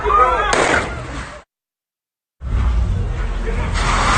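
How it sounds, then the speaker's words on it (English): Loud, distorted gunfire from a security guard's gun booms close by in a harsh continuous roar during a nightclub shooting, cut by a second of silence before resuming just as loud. "video of what appears to be the security guard firing at the shooter"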